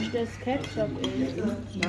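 Vendor cutting meat with a knife on a plate at a German pork knuckle stall in Germany: light, irregular metallic clinks and scrapes of cutlery against a dish, close by, with faint talk in the background.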